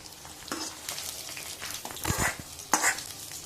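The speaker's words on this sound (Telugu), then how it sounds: "పోపు అయితే వేగిపోయింది ఫ్రెండ్స్ ఇందులోకి యాడ్ చేద్దాం" Fried tempering is poured into cooked pesara dal and sizzles, with crackling and frying noise and stirring clatter throughout, at moderate level and close.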